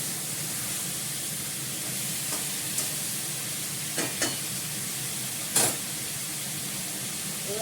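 Ridge gourd curry being stirred in a pan over the heat, with a steady soft sizzle and a few brief scrapes of the spoon against the pan.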